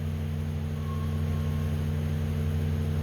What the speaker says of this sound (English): Pardon the noise, the neighbors are running a chipper next door.